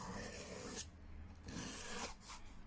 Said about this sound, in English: I'm going to do 5 each side away, almost like a stropping action, gently